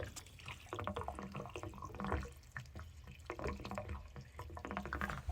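Water drains from a water heater's temperature and pressure relief valve, a faint, steady trickling and dripping heard close by without any speech.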